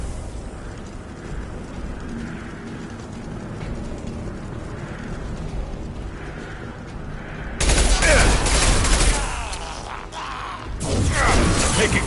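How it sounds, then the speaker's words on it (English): Gunfire in Mass Effect 2 sounds as mechanical clicks and rattles under a low game ambience, then a sudden loud burst of shots and impacts erupts, pauses and returns near the end. "Taking fire."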